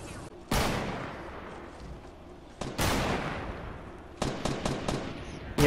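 Fortnite gunfire comes in a few sharp bursts: one shot, a later louder one, then a quick cluster of rapid cracks near the end, each followed by a decaying tail over a low background.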